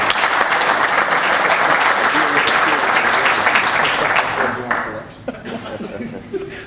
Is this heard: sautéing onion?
no